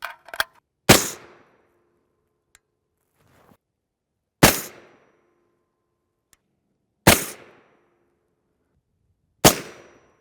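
Four sharp, loud rifle shots of M855A1 rounds from a 10.5-inch barrel striking an armor plate, spaced a few seconds apart, each a crisp crack with a short ringing decay, preceded by faint handling clicks.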